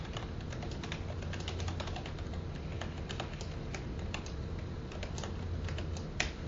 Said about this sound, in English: I'll type in a fake address.